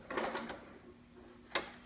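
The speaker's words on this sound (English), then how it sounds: "And I'm going to back stitch a little bit there." A sewing machine back stitches a seam on a romper, a short burst of rapid mechanical stitching followed by quiet and then a single sharp click, faint and close.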